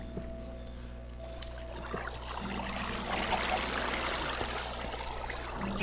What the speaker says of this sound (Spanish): Un río.